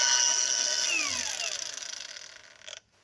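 A Procraft cordless angle grinder powered by a 4 Ah Grosser battery spins down after being switched off, a loud high whine falling steadily in pitch before cutting out near the end.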